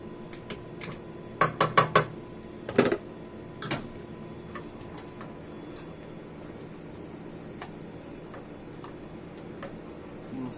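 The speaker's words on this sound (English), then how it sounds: "I'm going to do a little bit of whisking" Heavy whipping cream for Alfredo sauce being whisked in a pan, with a quick burst of sharp metallic ticks and taps early on, then sparse faint clicks over a low hum.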